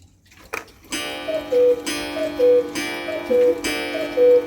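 Many clocks in the Claphams National Clock Museum in Whangarei tick together in a steady, overlapping rhythm, with a sustained ringing, chime-like tone running underneath. Nobody talks.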